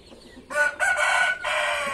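Carijó chickens and a hen on a farm, with a rooster crowing loudly and close by in a long drawn-out call over faint background clucking.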